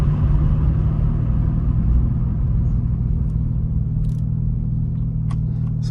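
Second-generation FC Mazda RX-7, over 30 years old, driving along with a steady, loud low rumble of engine and road noise throughout, with a few faint light clicks.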